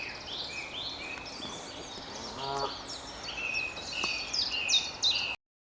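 A Canada goose honks repeatedly near a mute swan nest, bright nasal calls in uneven bursts growing louder toward the end, with no talking.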